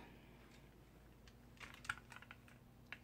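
Faint, quiet keystrokes on an IBM Model M mechanical keyboard, a short burst of a few clicky presses followed by a single later tap.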